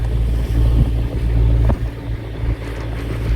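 Strong wind and rough sea waves surge around a fishing boat, a loud, deep rumbling roar of wind buffeting and water washing without pause.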